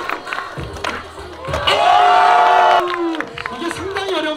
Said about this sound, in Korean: 양동철 사장님께 큰 박수